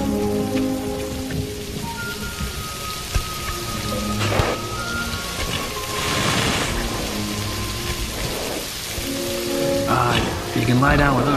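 Rain pours down steadily in a loud, continuous hiss, overlaid by tonal music and brief bursts of other sound effects.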